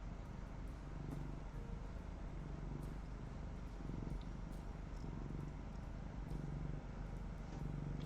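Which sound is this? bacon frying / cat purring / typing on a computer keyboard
cat purring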